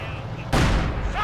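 A mortar round bursts in a Company of Heroes 2 battle, one sudden loud boom cutting in mid-clip over a low background rumble.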